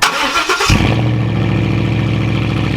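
A car engine with its exhaust missing and hanging free roars at full throttle, starting with a burst of rough noise and then holding a loud, steady, raw drone close by, with no talking.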